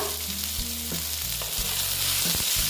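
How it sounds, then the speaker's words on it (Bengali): Pointed gourd (potol) frying in hot oil in a pan gives a steady, close sizzle throughout, broken by a few soft clunks of stirring, with no one speaking. "পটলগুলো প্রায় ভাজা হয়ে গেছে এবার আমি পটলগুলোকে তুলে নেবো"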